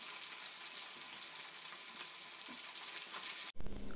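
Pomfret fish fries in a pan with a steady, dense sizzle of hot oil, close and continuous, then it cuts off abruptly just before the end.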